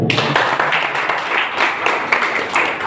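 Dense audience applause fills a venue at a wellness company program in Ghazipur, a loud steady wash of many hands clapping for nearly three seconds with little else over it.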